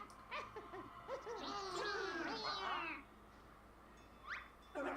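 A cartoon cat meows in Banjo-Kazooie: Nuts & Bolts, a run of bright, warbling meows over about two seconds, fairly loud alone over a soft game background, with a brief faint cry near the end.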